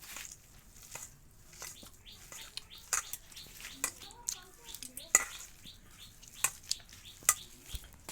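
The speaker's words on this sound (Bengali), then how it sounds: "এবারে সব একসাথে আমি ভালো করে মাখাই নেবো।" Hands mixing mashed fish with mustard paste and ground kohlrabi leaves, soft squelchy kneading and stirring with scattered sharp clicks and taps, close and fairly quiet, with a voice speaking now and then.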